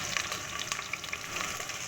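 Garlic frying in a pan for chicken sinigang with papaya, a steady close sizzle with soft crackles and no talk.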